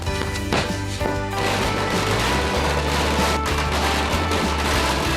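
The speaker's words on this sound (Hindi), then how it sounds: "जहां लोगों ने जमकर आतिशबाजी की" Rapid crackling bursts of firecrackers pop in dense clusters against a loud, continuous background roar, during village celebrations in India.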